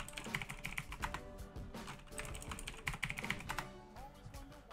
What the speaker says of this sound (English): So, let me just put the password in.